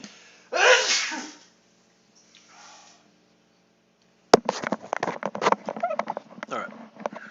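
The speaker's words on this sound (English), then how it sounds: "I'm gonna sneeze." A single loud, close sneeze bursts out, followed by a quieter exhale and then a stretch of rapid clattering and rustling noises nearby.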